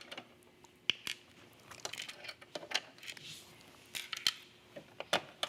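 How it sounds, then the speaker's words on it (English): A screwdriver loosens the needle plate screws on a Brother sewing machine, giving small sharp ticks and metallic clicks in an irregular sequence, close and fairly quiet. "Turn the machine off, remove the presser foot, unscrew both of these screws,"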